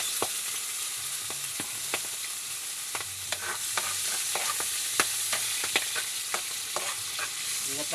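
Aromatics sauté in hot oil for mussel sinigang, a steady loud sizzle running throughout with repeated sharp scrapes and clicks of a utensil stirring the pan.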